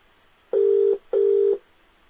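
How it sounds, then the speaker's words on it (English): A telephone ringback tone sounds twice in a steady pattern, each tone lasting about half a second with a short gap between them, clear and alone against faint background hiss. "Are we ringing Roy? Yeah, let's ring him."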